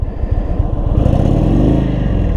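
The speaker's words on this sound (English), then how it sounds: "Sounds pretty good. It's a good sounding bike." A 2022 Indian Super Chief motorcycle with a 111 cubic inch engine revs up close and loud, its deep, throbbing exhaust rising and holding steady, with no talk over it.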